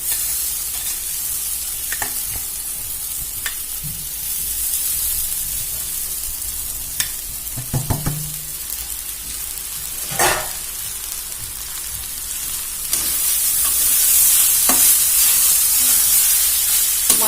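Poha for kanda pohe stirs and fries in a pan, with a continuous soft sizzle, occasional scraping stir strokes and clinks, and a brighter hiss swelling toward the end.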